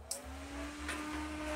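A Delta fan running at 5 volts gives a steady whirring hum with a faint tonal whine that holds throughout, with a soft click at the start.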